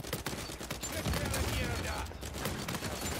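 Uncharted 4 multiplayer gunfire crackles in dense, rapid bursts over a busy, cluttered game soundscape, the shots running almost without pause across the stretch.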